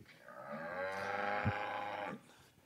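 A cross-breed cow on a Punjab, Pakistan farm gives one long, loud moo that lasts about a second and a half, with a strong tonal drone and a brief grunt partway through, then falls quiet. No speech can be heard.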